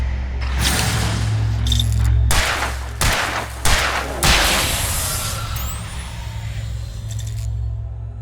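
Several sharp gunshots ring out in Alan Wake Remastered over a steady low rumble, spaced irregularly across the clip and fairly loud.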